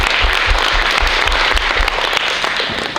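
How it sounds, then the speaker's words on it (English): An audience at a budget workshop applauds council members in a short, loud burst of clapping lasting about three seconds. "let's give them a round of applause for being present here today"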